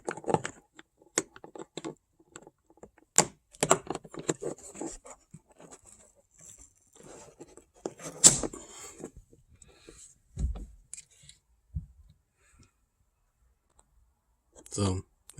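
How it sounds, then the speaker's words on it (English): A screw is taken out of the grab bar in a 2001-2005 seventh-generation Honda Civic. Scattered small clicks and scrapes come from the work, with a person talking in between. "Same thing on this side, and then take the screw out."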